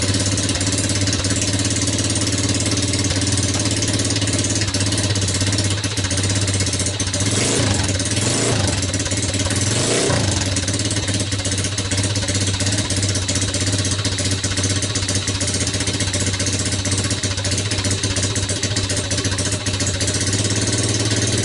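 A Suzuki LT80 ATV fitted with a 125cc Kymco manual-clutch motor idles loudly and steadily up close, a constant low engine drone with a brief uneven stretch midway.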